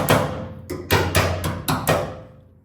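Hammer tapping metal tabs on a BMW E36 rear fender flare, several sharp close strikes at uneven intervals, fairly loud, with no talk.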